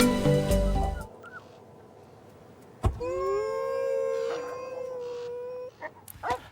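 A long, steady wolf-like howl holds a sustained tone for a few seconds after a brief noisy burst and a sharp knock, with short yips or whimpers near the end, fairly close and alone.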